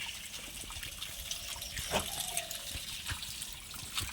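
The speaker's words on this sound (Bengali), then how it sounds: "বাপি ওলটা ধুয়ে নিচ্ছে।" Water runs steadily as an elephant foot yam is washed by hand, a soft continuous trickle and splash with a few sharper drips nearby.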